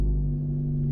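A manual-transmission car drones with a low, steady engine rumble and hum under throttle while pulling up a hill, heard from inside the cabin for a brief moment.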